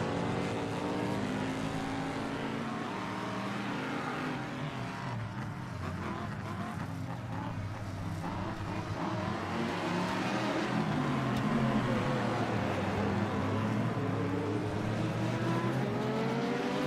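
Race cars at the Daytona circuit during the Rolex 24 Hours endurance race, including LMP2 prototypes, droning and revving continuously as traffic streams past, engines rising and falling in pitch over a steady roar.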